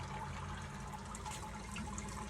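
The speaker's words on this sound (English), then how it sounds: "Okay, we're sparging." A gallon of hot sparge water is poured over the grain bed while brewing an all-grain beer kit, a steady close splashing and trickling that runs without a break.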